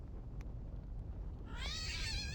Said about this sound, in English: A street cat cries out nearby.